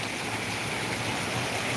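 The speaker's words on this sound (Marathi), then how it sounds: "खूप भयान पाऊस आहे" Very heavy rain pouring down in Ahilyanagar, a dense, unbroken roar of falling water, loud and constant throughout with no voices.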